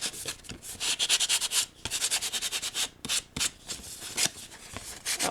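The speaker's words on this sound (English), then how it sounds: "So I'm just going around and sanding it to add that little bit of white pop through." Rapid, close scratchy rubbing of sandpaper on embossed paper in short bursts, with brief pauses between strokes.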